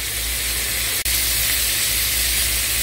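Green beans sizzle in a pan for a Southern home-style dish, a loud, steady frying hiss that carries on alone with a brief dropout near the middle.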